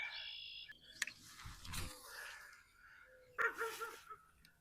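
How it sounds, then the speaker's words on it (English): A puppy beside a pond lets out several close barks and yips, with whimpering in between and a few sharper outbursts toward the end. "Sorry, puppy. Please don't bark."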